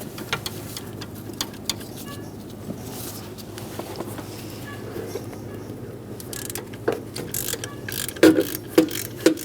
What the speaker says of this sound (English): Using a 14mm wrench on the front left bottom bolt, and use a 14mm socket on the rear.